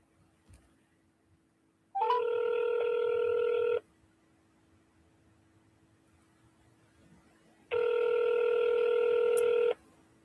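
Telephone call being placed: two bursts of steady electronic ringback tone, each about two seconds long and separated by a quiet pause, heard alone over faint background hiss.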